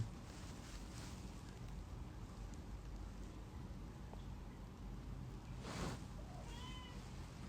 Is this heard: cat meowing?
yes